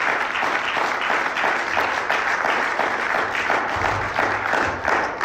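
A church congregation claps loudly and continuously, a dense, even wall of applause from a large crowd lasting several seconds.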